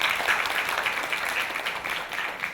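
Audience applause at a company new-employee presentation, a steady wash of many hands clapping throughout, fairly loud and continuous with no voices over it.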